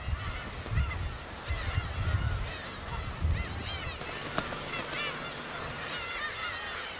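A dense colony of black-tailed gulls on the Dokdo islets in spring, many birds calling at once in overlapping, honking cries that rise and fall continuously, fairly close and loud over a constant wash of background noise.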